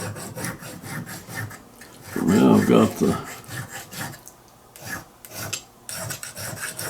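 A small diamond hone rasps back and forth over the steel lock plate of a Kibler flintlock fowler, a close scraping rub that swells loudest midway, with someone talking quietly alongside.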